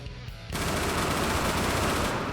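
Sustained rapid automatic gunfire in the Roblox game Dead Rails, a loud continuous stream of shots starting abruptly after a brief quiet moment and holding to the end.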